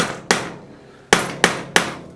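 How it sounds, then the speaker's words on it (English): A metal ring struck with small dapping punches and a hammer: four sharp, close, ringing metallic blows at uneven intervals, each decaying quickly, with no talking. "hammering this side of the ring"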